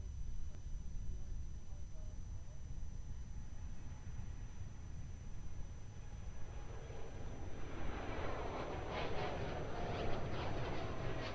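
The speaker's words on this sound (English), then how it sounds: "Jetstar departing to Ho Chi Minh City in Vietnam." A Jetstar Boeing 787 airliner departs Melbourne Airport, its broad engine roar steady and distant before swelling louder and brighter toward the end as it climbs away.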